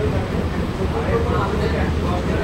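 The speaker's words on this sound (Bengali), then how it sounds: "ট্রেন ছেড়ে বেরিয়ে গেল ব্যারাকপুর রেলওয়ে স্টেশন।" Sealdah–Ranaghat AC local train leaving Barrackpore station, heard from inside as a steady low rumble of the moving coach, with a voice speaking over it.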